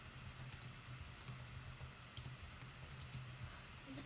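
Soft, faint clicking of fingers typing on a computer keyboard, irregular quick taps under low room noise, with no one speaking.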